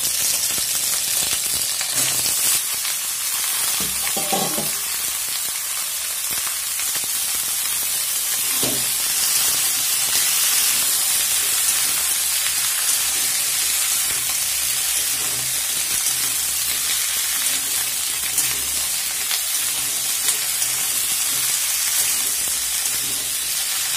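Vegetables for a Bengali spinach ghonto fry in hot oil with two bay leaves, two dried red chillies and panch phoron, giving a loud, unbroken sizzling hiss with occasional stirring knocks.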